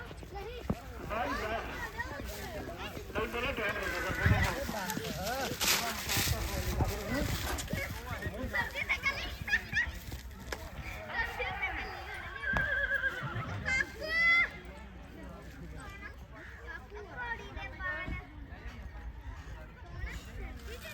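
A horse neighs amid a busy outdoor horse-racing fair at Bhaowal, with voices talking throughout and a loud whinny breaking through midway.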